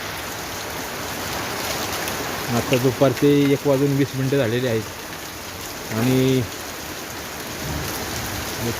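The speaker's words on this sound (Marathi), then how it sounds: "सारखा पाऊस चालू आहे" Steady rain hisses continuously in the background while someone speaks briefly over it, the downpour carrying on after he stops.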